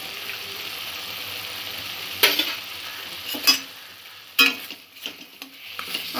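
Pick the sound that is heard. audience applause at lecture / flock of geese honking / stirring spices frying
stirring spices frying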